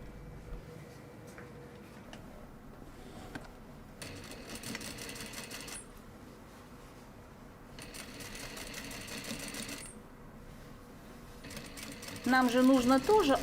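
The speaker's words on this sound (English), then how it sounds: "Now we can go back to the sewing machine." A sewing machine stitches a dress in steady runs of rapid mechanical ticking, starting and stopping several times, and a voice joins briefly at the end.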